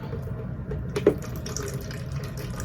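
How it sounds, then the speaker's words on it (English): Water pours from the spigot of a container used in a small worm tower, a soft steady trickle and splash up close, briefly gushing louder near the middle of the short clip, with no voices. "And it comes right out of the spigot."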